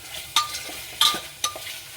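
Chicken frying over high flame in a cooker for a chicken stew, a steady sizzle punctuated by three sharp metallic scrapes of a stirring spoon against the pot, close by.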